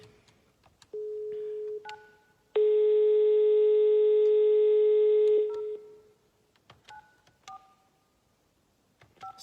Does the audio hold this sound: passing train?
no